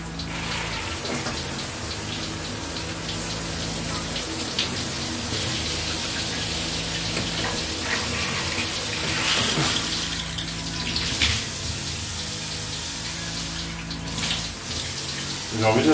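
Steady, loud rush of water pouring from a Grohe Smart Control thermostatic shower mixer in a renovated apartment bathroom, continuous splashing throughout, with people talking faintly underneath.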